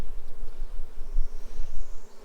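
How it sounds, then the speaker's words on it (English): Honeybees buzzing steadily and close at an open hive during an inspection, a continuous dense hum with no voices. "Good looking bees."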